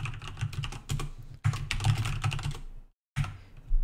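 Rapid computer keyboard typing, a dense run of close, crisp key clicks in bursts with one brief pause before the tapping resumes.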